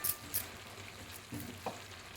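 Onions sizzle softly in a pan as a lid is lifted after five minutes of covered cooking, a faint steady fry with a few light clinks and stirring taps, no voices.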